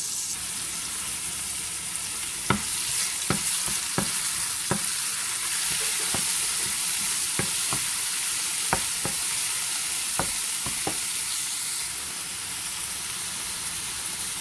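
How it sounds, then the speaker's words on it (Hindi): Chopped garlic sautés in two tablespoons of oil in a pan, a steady close sizzle and crackle running throughout, with a few sharp clicks of a utensil stirring against the pan. "इसको चॉप गार्लिक डाल के इसको सौते करेंगे।"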